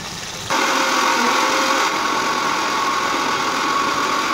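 Electric mixer grinder blending a cashew, cumin, cardamom, cinnamon, mace and ginger paste, whirring up loudly after a short quiet start and then holding a steady, harsh motor drone.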